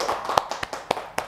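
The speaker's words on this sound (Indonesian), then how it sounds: "Tepuk tangan untuk kelompok 1." A handful of sharp, separate hand claps from students in a classroom ring out close by, spaced unevenly over a second or so.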